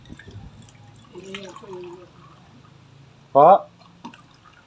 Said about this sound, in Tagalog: Baso. Lagyan ko na ng tubig.